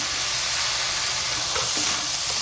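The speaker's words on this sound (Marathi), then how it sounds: "अद्रक लसूण पेस्ट टाकणार आहे आणि हे चांगलं परतून घ्यायचं" Whole lentils with ginger garlic paste sauté in a hot pan, producing a steady close sizzle and hiss with faint stirring scrapes underneath.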